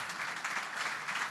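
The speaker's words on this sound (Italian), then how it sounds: "le facciamo un bellissimo applauso" Audience applause for rear admiral Enrico Pacioni at a ten-year anniversary celebration in Cagliari, a brief steady wash of clapping from a crowd.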